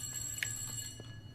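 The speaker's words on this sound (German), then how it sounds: "Ich glaube, das war der Wecker hier oben." An alarm clock in the Ghost Exile video game rings faintly, with a few short bell-like chimes scattered over a quiet background.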